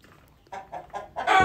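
A silver Wyandotte pullet gives a few short, close clucks in a quick series, ending in a louder, fuller call.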